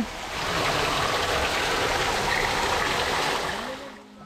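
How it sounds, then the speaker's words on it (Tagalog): Groundwater pours steadily into a flooded mine tunnel, a dense, continuous rushing and splashing that stays loud and close before easing off at the end. "Kaya naman hindi matigil ang pag-ulan ng groundwater sa loob."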